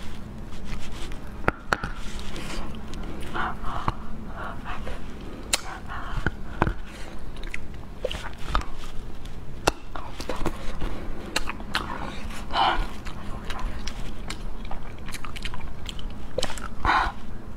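Close-up ASMR eating of spicy noodles and braised spare ribs, with steady biting and chewing, wet mouth sounds and occasional crunches over a constant low background.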